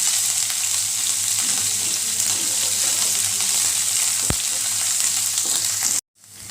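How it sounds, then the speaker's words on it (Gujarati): Green chillies, ginger and curry leaves stir-frying in a pan for a green-peanut chevdo, a loud, steady frying hiss with stirring scrapes and one sharp clack before it cuts off suddenly near the end. "અને લીલા મરચાં જે લીધેલા એ પણ અહીંયા આપણે ઉમેરી દઈશું, આદુ જે લીધેલું એ પણ ઉમેરી દઈશું, અને મીઠા લીમડાના પાન પણ ઉમેરી દઈશું।"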